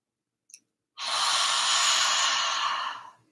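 A single long, breathy exhale, like fogging a mirror with a ha sound, heard close and alone after a short quiet breath in, lasting about two seconds before fading out.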